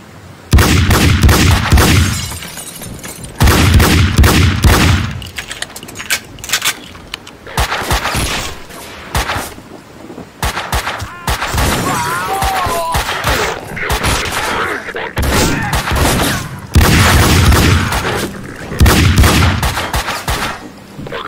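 Bursts of video game gunfire come in repeated loud volleys of rapid shots and booms, broken by brief quieter gaps across the stretch.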